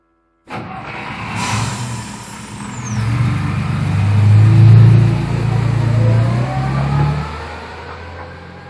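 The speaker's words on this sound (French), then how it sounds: "Le moteur marche, c'est que elle est en bus." A bus engine runs steadily with a low, heavy rumble that rises as it accelerates, and a brief hiss breaks through near the start.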